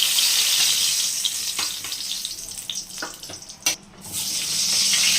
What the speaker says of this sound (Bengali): টুপুর টুপুর টুপুর টুপুর টুপুর করে বেগুন ভেজে চলছে